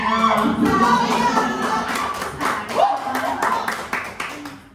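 A group of people at a school teacher workshop clap their hands in a lively, moderately close patter, mixed with overlapping voices talking throughout.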